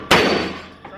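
A single loud gunshot at an outdoor shooting range, sharp and close, ringing out and decaying, with a fainter second report near the end.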